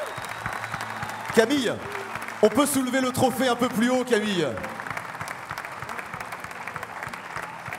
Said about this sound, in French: On peut l'applaudir encore bien fort.